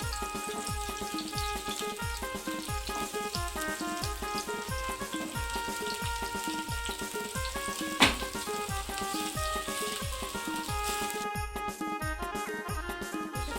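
Bangda mackerel frying in hot oil with crushed garlic, giving a steady dense sizzle with constant crackle at close range, one sharp pop partway through, and no talking.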